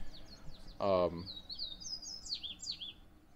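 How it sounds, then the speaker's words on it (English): Several birds chirp and tweet with quick, high whistling calls throughout in daytime Pereira, Colombia, and a brief burst of a human voice cuts in near the start. "They're happy. They're chirping."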